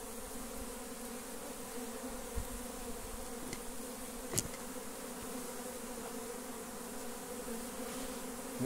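Apis honey bees swarm on a cabiuna tree stump, making a dense, steady buzz that holds through the whole stretch with a couple of brief louder ticks and no talking.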